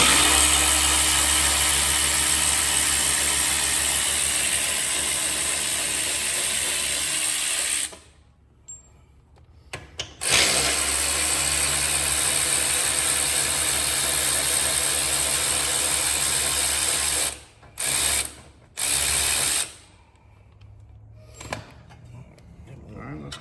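A power tool whirs in long continuous bursts while bolts are taken out of a skid plate on a CFMOTO CFORCE ATV, loud and close, broken by short gaps and brief spurts, with people talking.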